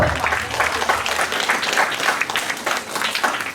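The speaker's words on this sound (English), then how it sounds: "I think we should clap." A group of people clapping together at a behavior management workshop, a steady dense patter of applause that holds for several seconds with no talk over it.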